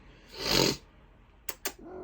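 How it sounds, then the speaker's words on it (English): A house cat gives a single drawn-out meow or cry, near and fairly loud, followed by a couple of short soft sounds and quiet room noise. "There's my cat."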